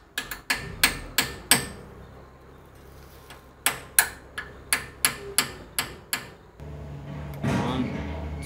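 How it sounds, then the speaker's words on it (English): Sharp metallic hammer blows on a punch ring out in quick bursts, tightening a nut while changing rear rotors on a Chevy/GMC Silverado dually, a dozen or so taps with brief pauses between groups, close up, followed by rustling. "I'm going to take my hammer and hit on this and turn this sideways to tighten it"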